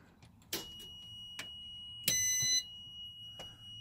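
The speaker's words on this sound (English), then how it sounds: "It's got a little alarm on it." A small outdoor temperature sensor mounted on a truck gives a short electronic alarm beep, a bright tone lasting about half a second amid scattered clicks and handling knocks in a quiet setting.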